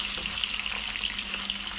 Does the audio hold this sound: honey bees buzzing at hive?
no